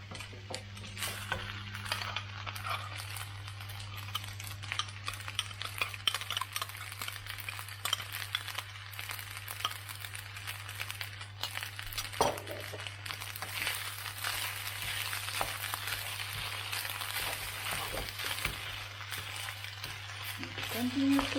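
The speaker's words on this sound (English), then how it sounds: "Continue cooking and stir until the rice cooks perfectly." Pineapple and prawn fried rice stirred in a hot pan, a steady sizzle with scraping and clinking of the utensil against the pan, close and continuous, with a low hum underneath.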